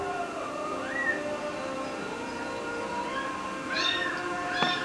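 Kittens meow at a shelter, with several short rising cries over a steady background, and a louder pair of calls near the end.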